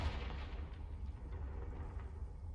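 Explosive blast from the Confringo spell in a Harry Potter video game, a dull, rumbling boom that swells and lingers for a couple of seconds with a low-heavy roar.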